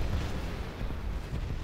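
Explosions boom in a Call of Duty: World at War zombies co-op match on a custom chem plant map, a dense low rumbling burst that fills the short moment.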